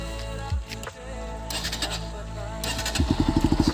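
A motorcycle engine idles and revs, its exhaust ending in a rapid, loud, regular popping pulse close by.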